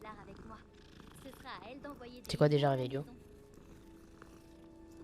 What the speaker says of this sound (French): Y'a un chat.